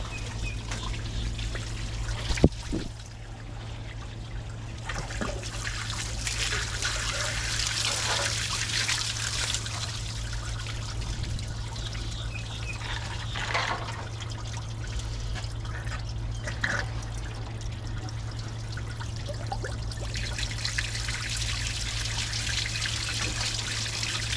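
Garden hose spraying water back through a forklift radiator, a steady close hiss and trickle of water running continuously with a faint mechanical hum underneath and one brief knock early on.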